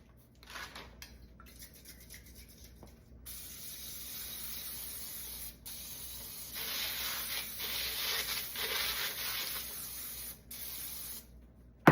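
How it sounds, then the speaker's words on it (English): Cooking spray misted over a parchment-lined baking sheet before stuffed mushrooms are baked, a steady close hiss lasting several seconds with brief pauses, no voices. "I'm going to go ahead and oil this sheet"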